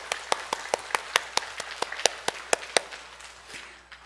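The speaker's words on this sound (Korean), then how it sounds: "격려의 박수를 이렇게 한번 쳐줬으면 좋겠습니다" Sparse, evenly spaced hand claps from a church congregation, sharp separate slaps in a steady rhythm rather than a dense roar, thinning out toward the end.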